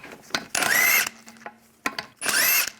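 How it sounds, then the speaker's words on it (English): An impact tool whirs in two bursts, zipping the lug bolts off the wheel of a 1998-2010 Volkswagen Beetle, each burst about half a second long and loud and close, with brief clanks between. "Take the lug bolts out."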